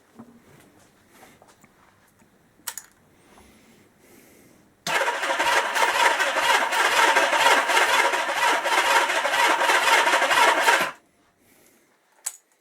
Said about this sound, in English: And I am actually getting the back popping out of the exhausts.